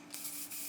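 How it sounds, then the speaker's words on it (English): GHD Perfect Ending Fix Spray hisses briefly from an aerosol can into a hand, a soft, close, steady spray lasting under a second. "I'm gonna take a little bit of the GHD Perfect Ending Fix Spray and I'm gonna put it in my hand"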